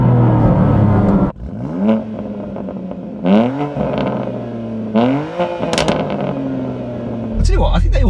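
BMW M2 Competition engine revving in repeated rising blips, three sharp climbs and drops with a steady idle between, loud and close, with some talk in the background.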